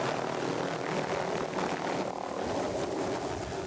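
A helicopter in flight carrying a 900-pound bull moose slung beneath it, its engine and rotor making a steady, loud, continuous drone that fills the whole stretch with no talk.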